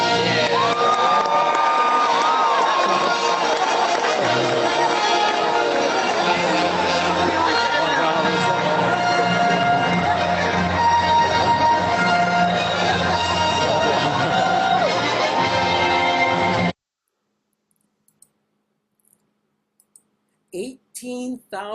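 A huge concert crowd of about 18,000 people stands, cheers and waves lightsabers for a composer. The roar is steady and dense, then drops away suddenly, followed by a few faint sounds.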